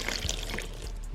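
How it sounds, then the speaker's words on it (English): Water poured into a tarantula's water bowl in its enclosure, a short, steady trickle and splash close by with soft dripping. "So I'm gonna go ahead and pour the water into the water bowl."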